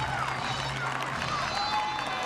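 Home crowd from Milton cheering and clapping after a hit at a state championship softball game, a steady wash of applause and shouts that carries on without a break, with a commentator talking over it.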